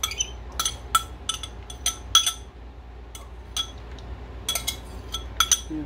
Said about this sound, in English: I'll get a little bowl here. I'll dump these out in because I'm going to eat them later instead of chucking them.